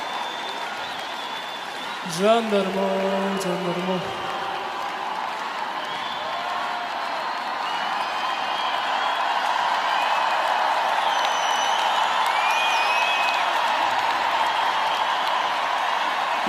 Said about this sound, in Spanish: Aplausos, aplausos a Dimash.